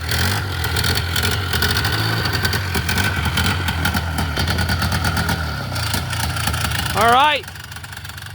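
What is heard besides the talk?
Polaris 4x4 engine idling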